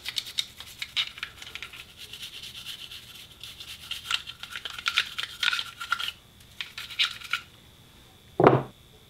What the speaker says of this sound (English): You kind of go to work with your toothbrush here.